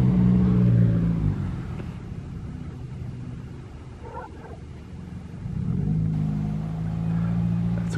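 A car passes and revs nearby, its engine loud at the start, fading to a low rumble in the middle, then swelling again as the revving returns near the end.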